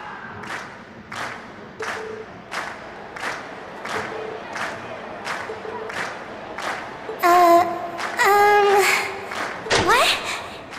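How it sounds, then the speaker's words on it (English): A concert crowd cheers and shouts in a scene from the video game Trails of Cold Steel, a rhythmic series of collective shouts with a brief swell of voices and effects near the end. "we've heard your cheers loud and clear"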